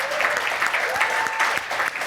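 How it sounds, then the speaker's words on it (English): An audience at an alumni brunch in New York claps steadily, a dense, even round of applause filling the room for its whole length. "another round of applause for Michelle and Mike Moore"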